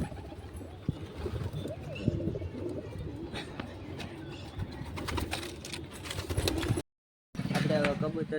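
Pigeons in a breeding box with chicks and eggs coo softly and repeatedly at close range, under intermittent nearby talking and handling noise, with a brief dropout near the end.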